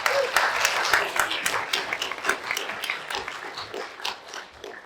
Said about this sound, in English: May we give them all another round of applause.